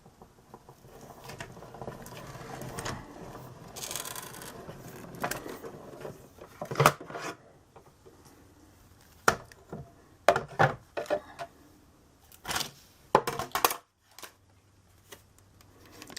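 Stampin' Cut & Emboss machine cutting a die in a single pass, heard as quiet irregular clicks, creaks and crunching bursts over a low hum, close by with no talk.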